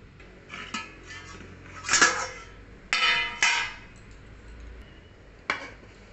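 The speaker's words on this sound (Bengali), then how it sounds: "এবার আমি আস্তে আস্তে হাঁড়ি খুলে বিরিয়ানিটি কেমন হয়েছে" A homemade chicken biryani pot has its lid lifted off: several sharp metallic clanks and scrapes of metal lid against pot, spaced irregularly with quiet gaps between, close and fairly loud, with no talking.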